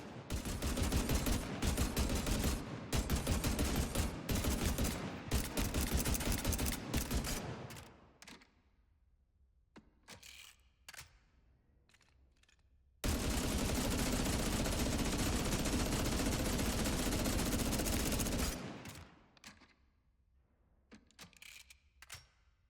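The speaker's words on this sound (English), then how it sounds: "This is the game's second light machine gun" A light machine gun firing in the video game Spectre Divide, loud sustained automatic bursts of rapid shots, then a pause with faint clicks, then another long unbroken burst.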